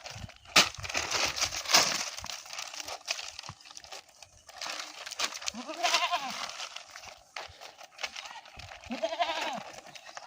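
A goat tended by a small child bleats a few times at moderate distance, the calls rising out of rustling, crunching handling noises and faint background sounds.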